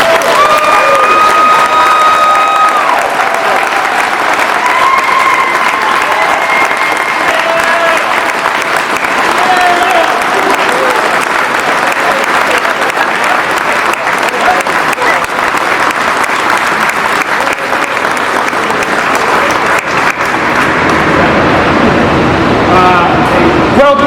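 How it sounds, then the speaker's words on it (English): Audience at a Navy meritorious advancement ceremony on a July 4th weekend breaks into sustained applause, a steady loud wash of many hands clapping with some cheering, lasting the whole stretch before thinning out at the end. "I'd like a quick round of applause for the Navy's newest first-class petty officer, A01 Wiki DeMott."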